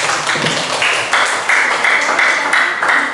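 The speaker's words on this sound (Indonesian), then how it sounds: "tepuk tangan buat kelompok" Scattered clapping from a small audience after a group presentation, close and uneven, individual claps standing out in a short burst.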